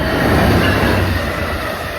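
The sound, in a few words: Amtrak Northeast Regional train at BWI rail station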